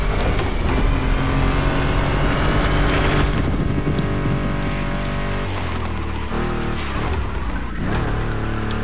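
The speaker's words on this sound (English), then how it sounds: "You can really hear those gear shifts." A Ford Mustang GT muscle car in the racing game The Crew Motorfest roars loudly while accelerating, with engine pitch climbing and dropping through several gear shifts, off-road.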